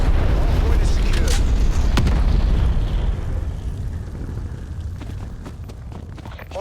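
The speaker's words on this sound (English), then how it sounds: "Hostile artillery targeting active. Net call. Incoming artillery." Incoming artillery explosions in the video game Call of Duty Black Ops Cold War, heard as a loud, continuous booming rumble. The rumble fades slowly over several seconds, with sharper impacts at the start.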